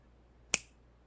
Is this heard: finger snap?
yes